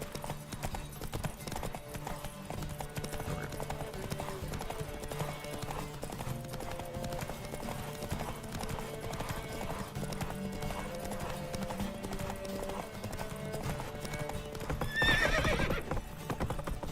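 Roach, Geralt's horse in The Witcher 3, gallops with a steady rapid clip-clop of hooves throughout, and a loud whinnying neigh rises near the end over game music and effects.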